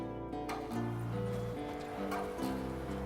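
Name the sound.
horse Roach in video game The Witcher 3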